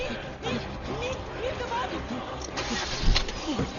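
A jeep engine turns over and starts in a tense escape, a steady mid-range motor rumble under hurried shouting voices.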